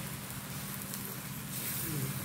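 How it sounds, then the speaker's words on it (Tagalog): Bananas frying in hot oil, a steady close-up crackle and sizzle that holds evenly and grows slightly denser toward the end. "Ganyan yung saging. Prito yung saging."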